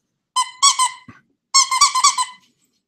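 A taco-shaped dog toy is squeezed, giving two loud, close runs of high rubbery squeaks, a few quick squeaks each, separated by a brief silence.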